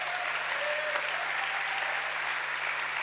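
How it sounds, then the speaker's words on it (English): Applause for a chef at the S.Pellegrino Young Chef 2018 event, an audience clapping in a continuous, even roar from start to finish, with no one talking over it. "Big applause to Massimo Bottura."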